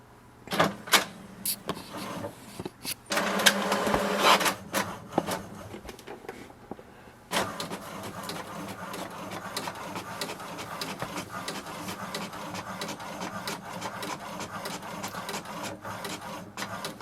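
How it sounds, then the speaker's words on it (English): An HP DeskJet Ink Advantage 2776 inkjet printer works through a page, with sharp clicks and clacks, a brief whirring feed burst, then a long steady mechanical drone of the print head moving back and forth, close by, no talking. "Here we can see the printer has printed wirelessly."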